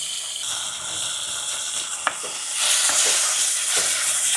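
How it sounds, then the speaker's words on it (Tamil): Cut ripe tomatoes dropped into a little hot oil for a Jaffna-style fish curry, with a strong close sizzle that swells louder midway, a sharp clink, and faint stirring, no speech. "இந்த இருக்கிற கொஞ்சம் எண்ணெய்க்குள்ளே இந்த வெட்டி வச்சிருக்கிற நல்ல பழுத்த தக்காளி பழம் அதை போட்டுருவோம்"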